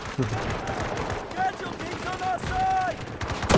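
Gunfire in the video game Delta Force on the Knife Edge map, rapid bursts of automatic shots crackling continuously at close range, with a voice talking over the shooting.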